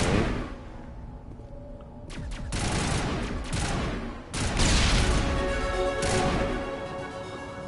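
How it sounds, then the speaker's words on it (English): Gunfire and a grenade blast in Mass Effect 1 Legendary Edition, loud rattling volleys in several bursts that swell into a heavy crashing explosion, with sharp bangs continuing afterward. "Who is shooting there?"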